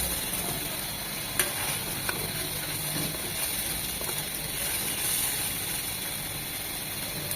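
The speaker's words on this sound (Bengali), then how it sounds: "এখন মশলাগুলো সব খুব ভালোভাবে কষিয়ে নিতে হবে।" Spices frying in oil in a pan while a cook stirs them for a Bengali chewa fish dopiaza, giving a steady close sizzle with scraping stirring clicks throughout.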